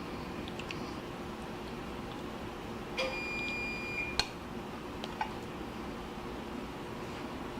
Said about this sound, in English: Pardon the beep, that was my oven timer going off.